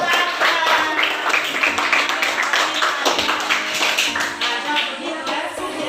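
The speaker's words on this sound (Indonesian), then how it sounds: "Tepuk tangan dulu." A group of children in a classroom clapping their hands together, a lively scattered patter of claps that keeps going steadily for several seconds.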